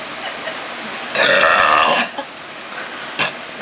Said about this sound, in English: One last burp.